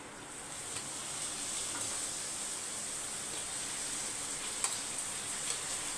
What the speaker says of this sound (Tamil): இப்போ எண்ணெய் காஞ்சிருச்சு அப்பளத்தை பொரிச்சிக்கலாம்